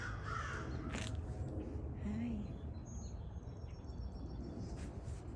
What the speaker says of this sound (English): I hear the crows.